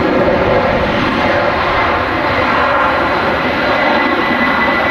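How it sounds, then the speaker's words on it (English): Euro Atlantic Boeing 767 jet beginning its takeoff roll at Manchester Airport, a loud, steady broadband engine roar that holds constant throughout with no voices. "the Euro Atlantic 767 starts its takeoff roll."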